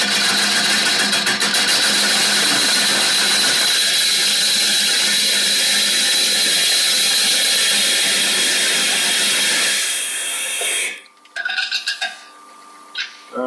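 A woodturning gouge cutting inside a hollow on a spinning lathe gives a loud, continuous broadband hiss and whir that drops away near the end, followed by a few brief knocks.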